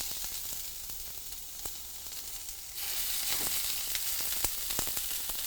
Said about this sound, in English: You hear the cooking and the sizzling, that's all the marinade and a little bit of oil on there